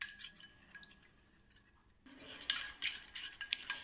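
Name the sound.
spoon mixing face mask paste with milk in bowl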